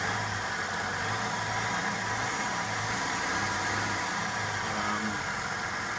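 A car engine with newly replaced fuel injectors and a supercharger idles a little roughly, a steady low hum with slight unevenness heard close by and moderately quiet, without talk.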